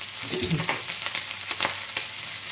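Onion and green chilli dropped into hot oil with mustard seeds, a close, steady frying sizzle with a few brief stirring scrapes over a short stretch.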